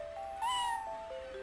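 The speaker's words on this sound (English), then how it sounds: "Now this is a much more happier cat." A cat meows in the video game Ripened Tingle's Balloon Trip of Love, one short, faint, high electronic meow over a steady quiet background tone.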